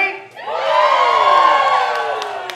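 Crowd at a waacking dance battle breaking into loud cheers, whoops and shouts that swell right after a short pause and hold strong, close and dense to the end.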